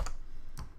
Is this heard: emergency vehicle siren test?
no